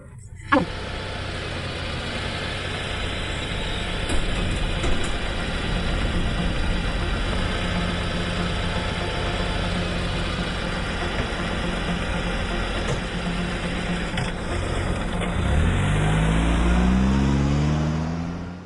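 An idling car engine hums steadily as a family climbs in, with a door thump near the start, voices talking over the drone, and a rising rev toward the end.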